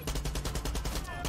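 Rapid rifle fire in the video game Far Cry 6, a fast string of about a dozen sharp, evenly spaced shots in a continuous burst, loud and close.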